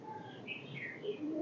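A breeder's pigeons coo softly over low background murmur, with a few brief faint chirpy calls scattered through the short stretch.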